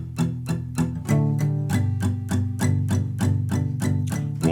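An acoustic guitar strums open chords in the rhythm of a song, steady even downstrokes, close and loud, with no voice.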